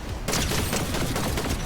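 Gunfire in Fortnite, a sudden burst of rapid shots that starts abruptly and continues as dense, loud, steady firing.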